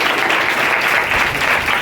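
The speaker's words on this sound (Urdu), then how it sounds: "जोरदार तालियां, जोरदार तालियां, जोरदार तालियां।" A church congregation claps loudly and steadily in a dense, continuous burst of applause filling the room.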